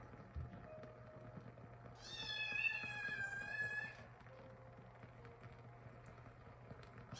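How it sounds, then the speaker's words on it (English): A house cat lets out one drawn-out, wavering meow lasting about two seconds. It sounds fairly close but soft, over a low steady room hum, with quiet surroundings before and after. "That cat is being so annoying lately."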